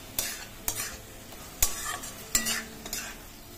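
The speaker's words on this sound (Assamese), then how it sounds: "মই গোটেইখিনি মছলাই ভাজি ল'লোঁ" Red chilli powder and other ground spices sizzle in a pan while a utensil scrapes and stirs in six sharp strokes at irregular intervals, close by, with no voices.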